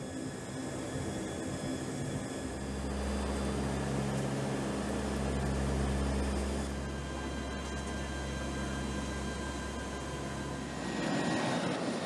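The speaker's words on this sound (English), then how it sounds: "The Lockheed P-3 Orion is a 4-engine turboprop aircraft capable of reaching a top speed of 411 knots." A Lockheed P-3 Orion, a four-engine turboprop military patrol aircraft, flies with a steady droning engine hum and strong low rumble that swells and holds for several seconds before easing off, with no talk.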